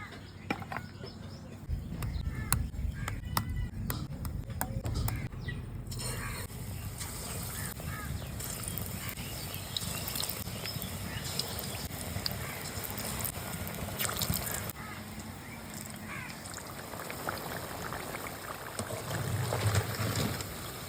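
Cauliflower pakoras deep-fry in hot oil with a constant crackling sizzle. It runs steadily at moderate level with a few sharper pops, and no one talks.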